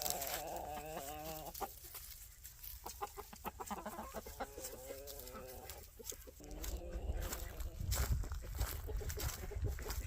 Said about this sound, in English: I had to get past the chickens.